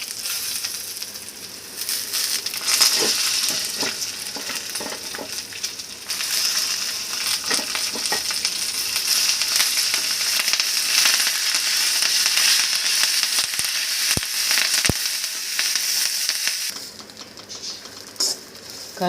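Curry leaves and urad dal sizzle and crackle steadily in a hot pan, a dense continuous fry with occasional sharp pops and clinks, fading lower near the end.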